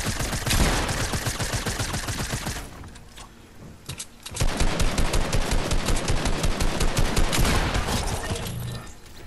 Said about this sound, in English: He has Midas' drum gun.